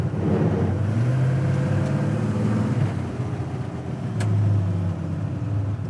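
A 1965 Chevelle restomod driving, its engine a steady low rumble with rising and falling tones as it accelerates, heard from inside the car amid road noise.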